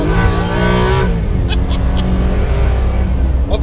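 Coyote V8-swapped truck accelerating hard, engine note climbing through a loud revving pull and shifting to a lower, rougher roar, close and continuous with no talk over it.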